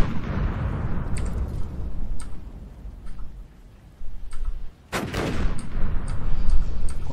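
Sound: gunfire hitting the player in the video game Cataclysm

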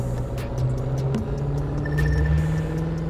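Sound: car engine driving in The Crew 2 video game

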